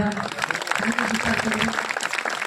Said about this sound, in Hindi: जोर के ताली मारिबा